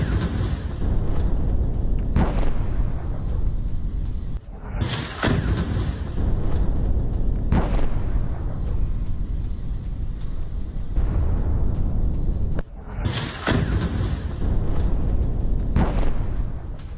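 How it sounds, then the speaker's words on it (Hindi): Heavy bombardment strikes a tower in Nuseirat camp, Gaza: several deep, loud explosive booms arrive a few seconds apart over a constant rumbling background, with no talk. "नुसीरत कैंप के ज़कात टावर पर भारी बमबारी की तस्वीरें अब आप देख रहे हैं"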